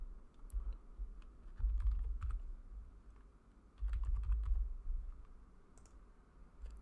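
Rapid keyboard typing on a computer while entering a MySQL query in MySQL Workbench: bursts of close, crisp key clicks with brief pauses between flurries, no voices.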